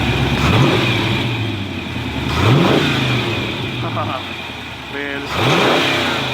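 A Chevy 350 four-bolt-main V8 in a 1995 Jeep Wrangler YJ revs up and settles several times, loud and close, while someone talks over the engine.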